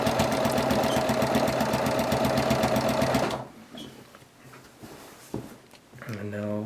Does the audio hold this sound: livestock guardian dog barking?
no